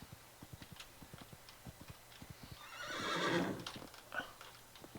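A horse in a video game neighs in one loud, drawn-out whinny over a steady rhythm of soft clip-clop hoofbeats, with no talking.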